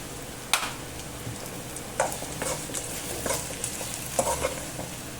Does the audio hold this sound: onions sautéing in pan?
yes